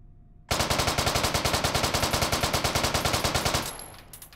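Fully automatic gunfire in the VR game Hot Dogs, Horseshoes & Hand Grenades, a loud rapid burst of about three dozen evenly spaced shots lasting some three seconds, then a fading echo.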